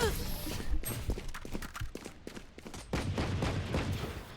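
Gunfire in the tactical shooter Valorant, with rapid cracking shots in dense clusters over the whole stretch, close and loud, mixed with footsteps and game effects, while players talk over the action.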